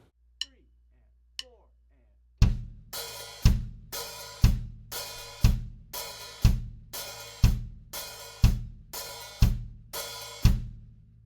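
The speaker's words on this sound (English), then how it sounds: "And adding the bass drum with every closed hi-hat sounds like this." A steady beat of bass drum thumps paired with crisp closed hi-hat hits, with cymbal wash ringing between strokes, evenly spaced and fairly loud.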